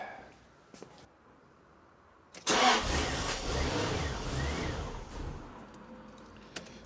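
A Jaguar XK8 with its MAF sensor disconnected cranks and fires into a loud, steady running note that holds for several seconds after a few faint clicks, close by with no talk.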